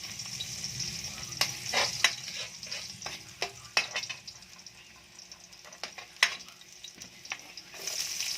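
Garlic hits hot oil in a pan and sizzles softly, with intermittent scraping and stirring clicks from a utensil, close and fairly quiet.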